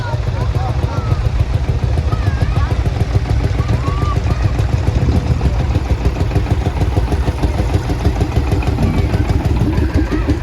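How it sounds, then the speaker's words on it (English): An orange Field Marshall tractor engine thumps with a steady, rapid single-cylinder beat as it passes in a parade at a steam fair, loud and continuous while a commentator talks over it. "The orange tractor just about to go past the commentary box is a field marshal"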